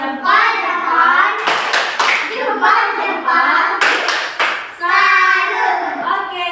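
Schoolchildren in a classroom do a rhythmic "tepuk salut" clapping chant, with short bursts of claps breaking in between stretches of a teacher speaking and children chanting.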